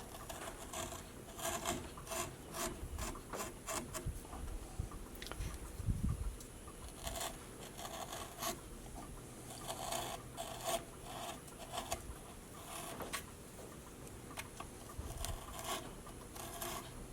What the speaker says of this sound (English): just going to keep going with smaller gouges